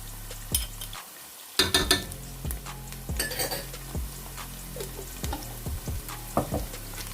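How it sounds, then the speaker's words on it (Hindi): Ginger garlic paste frying in a pan, with scattered metal spoon scrapes and clinks against the pan over a low, steady sizzle, close by and moderately loud. "इसको मैं थोड़ा सा भून लेती हूँ।"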